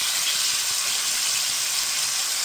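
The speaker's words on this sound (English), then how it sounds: "I'm just going to let this saute" Vegetables sautéing in olive oil in a pan for vegetable pasta, giving a steady, even sizzle and hiss that stays constant throughout, close by and moderately loud, with no talking.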